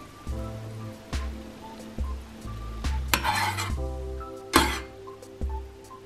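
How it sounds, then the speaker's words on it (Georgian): Flaxseed liquid, made by steeping seeds in boiling water, is poured into a small pot. Two splashing pours stand out among the clinks and knocks of pots and utensils, all heard close with no voices. "ჩავასხათ პატარა ქვაბში."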